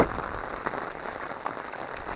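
Steady rain falling in a village during the rainy season, water pooling and running off, a continuous dense hiss with scattered louder drops, close and alone without voices.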